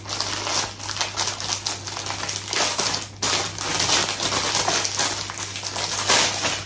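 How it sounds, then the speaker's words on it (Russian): Packaging on a food coloring set is torn and opened up close, producing dense, irregular bursts of crackling and crinkling over a low steady hum. "Набор пищевых красителей. Сейчас откроем, тоже посмотрим."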